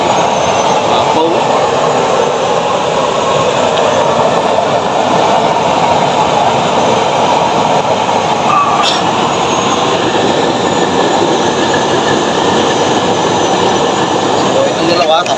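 Used-oil stove burner roaring at high fire, a loud, dense, continuous rushing roar that holds steady throughout, close up, with a voice talking faintly underneath.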